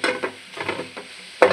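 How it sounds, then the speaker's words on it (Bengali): Onion and shrimp frying in oil in a pan, soft sizzling broken by a few scraping stirs of a utensil, with a sharper clatter near the end. "আগে একটু ভাজা করে দিই পেঁয়াজটা চিংড়ি মাছটা"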